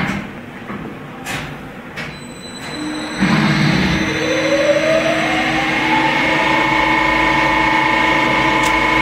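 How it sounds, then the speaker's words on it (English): A CNC lathe run by a GSK980TDb controller with a four-position tool post starts its part program. Faint clicks come first, then the machine spins up with a steady hum and rising whine that stays close and continuous, with no talk. "press cycle start to begin the run of the part."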